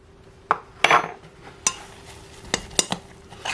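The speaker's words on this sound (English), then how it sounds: "I'm going to mix in 1 tablespoon of sugar" Sugar being mixed into buttermilk pancake batter in a bowl, a run of sharp utensil clinks and taps against the bowl at irregular intervals over a quiet background, close by and without speech.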